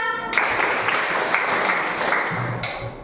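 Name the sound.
class clapping a five-clap pattern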